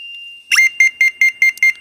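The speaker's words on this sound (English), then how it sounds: "The beeping tone indicates my high frequency conduction is operational." A brief electronic tone followed by six quick, evenly spaced beeps from a handheld Pipehorn 800 Series pipe locator receiver, loud and close.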